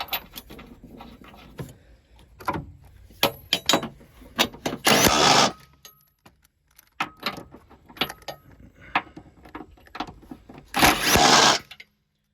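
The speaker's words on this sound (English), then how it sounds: "Now chunk these nuts on here, tighten them up." Nuts being run on and tightened during a water pump install on a Chevy Equinox V6, a series of metallic clinks and ratcheting bursts with two louder, longer spinning rattles, close by.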